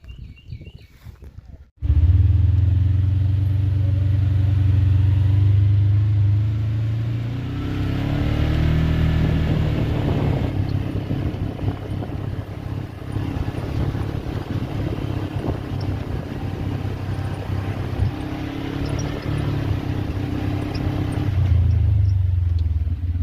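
Vehicle driving slowly through a washed-out field with exposed gravel layers, a steady low engine rumble with bumps and rattles throughout, wind buffeting the microphone, a person talking briefly.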